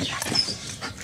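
A Šarplaninac dog whimpers close by while chewing on a length of chain held in its mouth, short thin whines over a steady rustling background.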